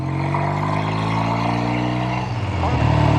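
A 1969 Triumph Tiger 650 TR6R motorcycle engine idles steadily nearby with a low, even rumble, then shifts pitch briefly near the end, while someone talks over it.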